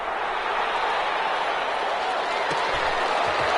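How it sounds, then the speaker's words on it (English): A stadium crowd at a football game applauds the defense, a steady, dense wash of clapping and cheering that holds at an even, fairly loud level throughout. "How about some applause for the defense there?"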